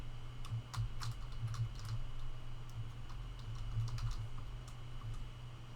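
Fingers type on a computer keyboard while coding an e-commerce backend, a close run of light, irregular key clicks over a steady low hum, with no voices.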